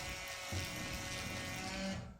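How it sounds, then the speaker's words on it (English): Battery-operated electric driver screwing a drywall toggle bolt into a bathroom wall, a steady high-pitched motor whine with a strained grind that runs for about two seconds close by before cutting off. "I'm going to use an electric driver or a battery operated driver, and I'm going to go ahead and screw it in."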